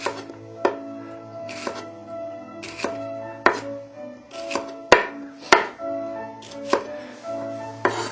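A kitchen knife slices vegetables at an angle on a cutting board, giving a steady series of about a dozen crisp, close chops spaced roughly half a second apart, with a faint board thud under each stroke.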